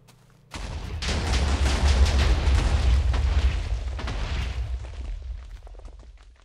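TNT detonates in Minecraft, a video game, with a sudden loud boom that spreads into a long, rumbling, crackling roar of blasts lasting several seconds before slowly fading.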